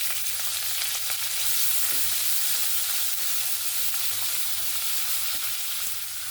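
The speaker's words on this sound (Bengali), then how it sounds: "পেঁয়াজটাকে সুন্দর লাল লাল করে ভেজে নেব" Chopped onions fry in hot oil with nigella seeds and three green chillies, a loud, continuous close sizzle with a few faint stirring scrapes underneath and no voices.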